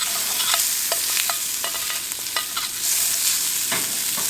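Onion sizzles loudly with bacon and garlic in a pan for a tailgate breakfast, a steady hiss broken by repeated stirring scrapes, with no talking.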